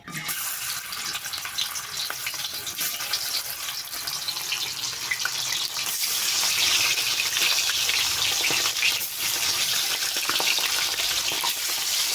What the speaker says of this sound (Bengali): তেল দিয়ে এখন মাছটা ভেজে নিই